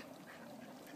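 A duck quacks while being chased by swimming dogs in open water, steady and fairly faint across a one-second stretch with splashing-like background noise.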